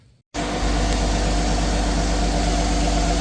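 The V6 engine of a Lotus Exige fires up after an oil and filter service and settles straight into a steady, close, rumbling idle with a deep low throb, no voices over it.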